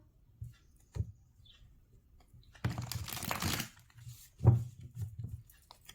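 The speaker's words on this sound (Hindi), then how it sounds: "एक बारी और कर लेते हैं शफल" Tarot cards being shuffled by hand: a few soft taps, then a dense riffling burst in the middle, followed by lighter card handling clicks.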